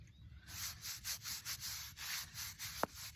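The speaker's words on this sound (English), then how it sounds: "just scrubbing more rock if you can't see it" A stone headstone being scrubbed during a cleaning and restoration job, with a steady back-and-forth rhythm of bristle strokes rubbing the rock surface, close and fairly quiet, plus one brief sharp tap near the end.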